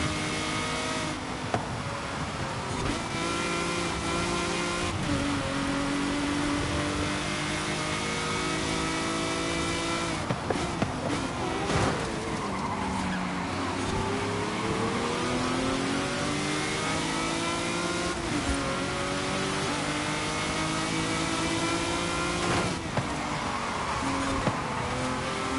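A race car in Forza Horizon 5 accelerating hard through an online race, its engine revving loudly and continuously with repeated gear-shift dips, tire squeals and occasional bumps, close up with no talking.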